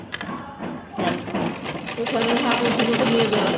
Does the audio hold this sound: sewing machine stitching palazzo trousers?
yes